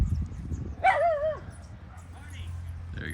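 A dog gives a single short, loud bark-whine close by, with a fainter yelp following, over low rumbling background noise.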